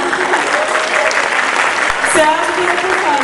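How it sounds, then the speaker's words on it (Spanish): An audience claps at a children's dance festival in Samacá, a steady burst of applause from a crowd, fairly loud and close, with a voice speaking briefly over it. "¿tiene por favor un aplauso del público?"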